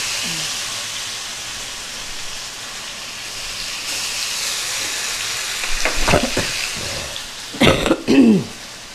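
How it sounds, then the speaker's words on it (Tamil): Fish sizzles and crackles in hot oil on a low flame, a steady frying hiss that swells with sharper pops and bubbling bursts near the end, with a brief throat-clearing sound mixed in. "சுடுற எண்ணெயில் மீனை போட்டு அது மாதிரி தான் சவுண்டு வருமா"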